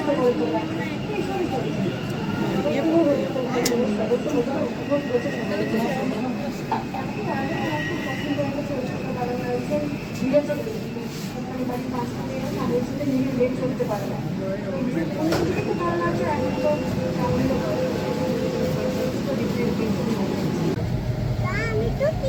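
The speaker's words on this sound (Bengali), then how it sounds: "চলুন, আমাদের ট্রেন এসে গেছে।" A Kolkata Green Line metro train departing Esplanade rumbles and runs steadily throughout, a continuous low mechanical roar with occasional clanks, while people talk over it nearby.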